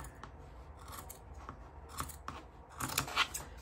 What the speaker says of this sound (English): I am gonna trim a little bit more off this bottom part here